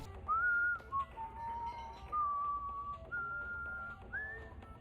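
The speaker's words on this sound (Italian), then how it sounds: "Attenzione, sta fischiettando." A character whistling in the video game Far Cry 3, a clear, fairly close tune of several sustained notes and short glides with faint background clinks.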